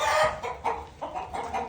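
Golden hens on a farm cluck close by in several short, closely spaced calls.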